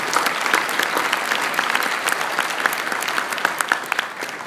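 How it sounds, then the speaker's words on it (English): An audience gives a round of applause at a conference general session, with many hands clapping in a loud, steady stream and individual sharp claps standing out before it tapers slightly at the end. "Give these folks a round of applause if you would,"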